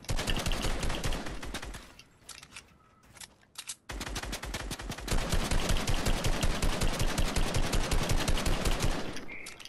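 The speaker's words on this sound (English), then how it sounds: "Keep shooting, keep shooting, keep shooting." Rapid automatic gunfire from a Fortnite match rattles in long, loud, continuous bursts, breaking off briefly before resuming and hammering on to the end.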